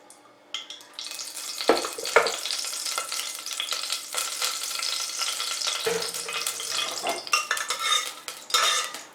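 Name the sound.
ghee heating and sizzling in hot pressure cooker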